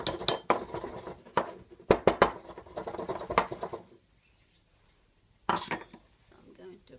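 Fresh black pepper being crushed by hand in a kitchen, a string of close, crackling, gritty crunches and taps in bursts, then a pause, then another short burst.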